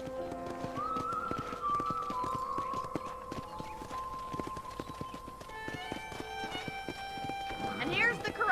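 Clip-clopping hooves of horses at a ranch in Red Dead Redemption keep a steady walking rhythm under an ongoing musical drone, ending in a loud whinny.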